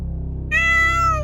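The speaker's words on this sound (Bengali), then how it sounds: "একটা কালো বিড়াল আমার সামনে দিয়ে বেরিয়ে গেল" A black cat gives a single clear meow, close and fairly loud, rising out of a low steady background hum and holding for nearly a second.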